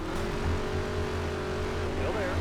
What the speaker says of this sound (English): You can hear the engine just bog down.